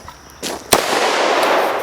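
A single gunshot is fired at a shooting target outdoors, a sharp loud crack followed by a broad lingering rush of echo and noise.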